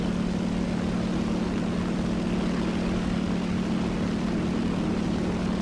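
Engine of a Ki-43-II propeller fighter plane in the combat game War Thunder, a loud steady droning hum with a constant tone throughout and no voices.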